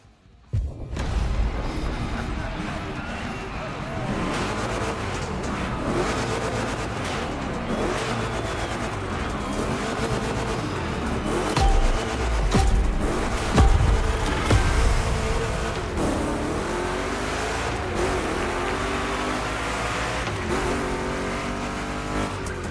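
Two Chevrolet big block cars race in The Crew Motorfest gymkhana, with loud continuous engine roar, revving rising and falling through turns and bursts of tire squeal, no voices.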